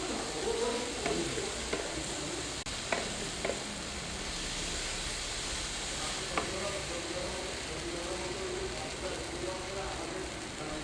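Chicken curry spices and ginger paste sautéing in a kadai, a steady close sizzle with scraping stirs and utensil clinks throughout, a voice speaking now and then over the frying.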